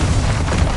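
A Confringo blasting spell detonates in Hogwarts Legacy, giving a loud, continuous booming burst with heavy low rumble that fills the brief moment without pause.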